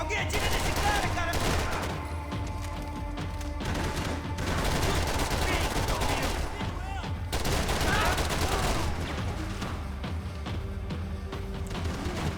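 Gunfire in the video game Max Payne 3, dense repeated bursts of shots and automatic fire that crackle continuously and loudly throughout, with occasional talk over the action.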